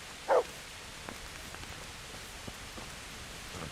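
Steady in-game rain falls in Kingdom Come: Deliverance, a soft continuous hiss with faint scattered drops, broken once near the start by a brief louder sound.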